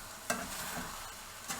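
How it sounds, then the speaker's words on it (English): Pork fried rice sizzles steadily in a pan, with two sharp scraping stir strokes as it is moved around; no talking. "I think you can hear it sizzling."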